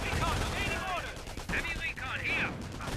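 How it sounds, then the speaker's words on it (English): Machine gun fire from an MG team shooting at an infantry section in a World War II strategy game with Wehrmacht and British forces, with bursts running throughout amid battle noise and chirping effects. "he's flipping the MG so it can fire at the infantry section once again"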